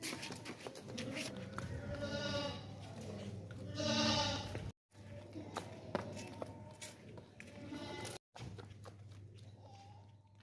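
A healthy, well-fed Makhi Cheena billy goat with white eyes, being sold for Qurbani, bleats in several drawn-out calls over a steady background hum, the loudest cry near the middle, with short silent gaps.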